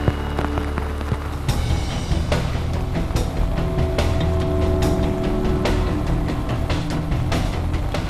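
Heavy rain pounds onto a Texas river: a dense, constant wash of hiss and patter, loud and close, with scattered sharper drops and knocks throughout.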